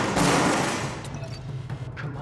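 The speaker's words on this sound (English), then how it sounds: "And then just popping up and shooting." Gunfire in Tom Clancy's The Division, a heavy burst of shots up front that fades into scattered softer reports and thuds, close and loud.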